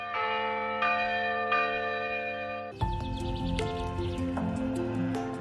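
Village church bell ringing out with long sustained tones, then a louder, denser burst of overlapping strikes and clanging peals that continues to the end, fairly near and with no talking.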